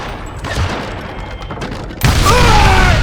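Gunpowder and dynamite explosion in Call of Juarez: Gunslinger, a sudden loud boom that cuts in sharply and rumbles on steadily after quieter gunfire and ambience.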